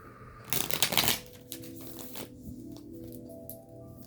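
Tarot cards shuffle in a dense papery riffle burst lasting about half a second, then softer scattered flicks and card slaps follow over a quiet room hum.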